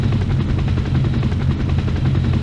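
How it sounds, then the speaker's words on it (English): A loud, steady combat helicopter rotor drone from the video game Hell Copter thumps continuously, close and unbroken, with no voices. "Enemy combat helicopters are in the vicinity."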